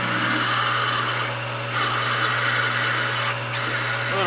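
An annular cutter bores into metal at too high a speed, grinding with a loud, steady whine and a low motor hum that drop briefly twice as the cut shifts.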